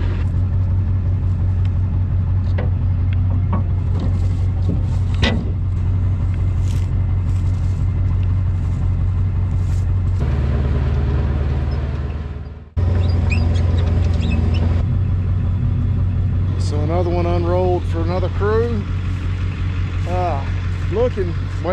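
A vehicle drives down a thawing rural road near pastures, its steady low engine rumble and road noise continuous throughout, briefly dipping near the middle, with a few higher chirps or squeaks over the drone.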